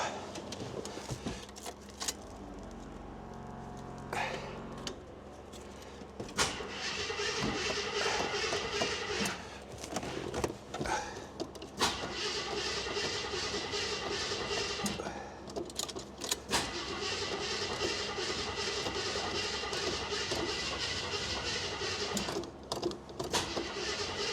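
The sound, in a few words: Jeep FSJ Wagoneer engine idling after starting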